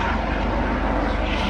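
A Coast Guard training helicopter passes overhead near a wooded campsite in northern California, a steady loud rotor and engine roar filling the whole moment without pause.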